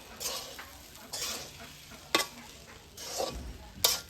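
Fried rice is stirred in a pan after chopped coriander goes in: several quick scraping strokes of a spatula, a few seconds apart, over a faint sizzle, with no talking.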